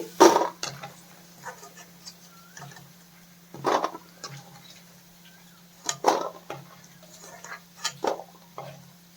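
Fried soya chunks are moved onto a plate in a home kitchen, with sparse clinks and scrapes of utensil on dish at irregular intervals over a steady low hum, quiet and close.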